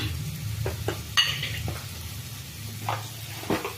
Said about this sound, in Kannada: ಇದು ಚೆಂದಾಗಿ ಫ್ರೈ ಆಗಿಬಿಟ್ಟು ಎಣ್ಣೆ ಎಲ್ಲ ಬಿಡ್ತಾ ಬರುತ್ತೆ